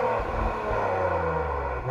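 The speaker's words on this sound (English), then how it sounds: "Let's see if we can get my wife to rev it" A 2024 Acura TLX Type S engine revs through its quad exhaust tips, a loud, close, continuous roar with rising and falling pitch over under two seconds.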